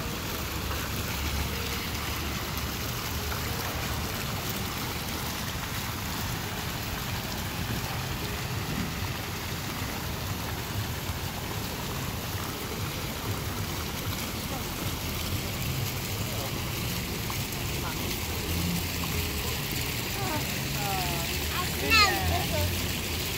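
Fountain water splashing on an outdoor walk, a constant close rush and patter of falling water filling the whole stretch, with people chatting faintly over it.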